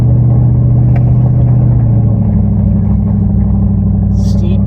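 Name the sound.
truck engine chugging uphill on mountain trail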